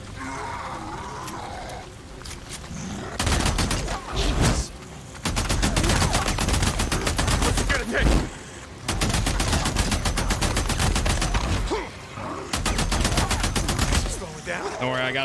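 Gunfire in the PC video game Days Gone: loud bursts of rapid shots in several long volleys separated by brief pauses.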